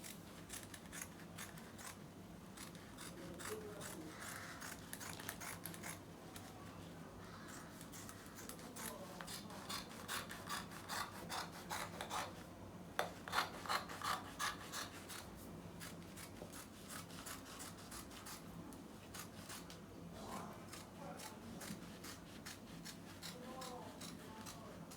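Scissors snip through dress fabric laid out for a drawstring dress, a run of short crisp cuts at close range, most distinct near the middle, over steady low room hum with occasional rustling of cloth.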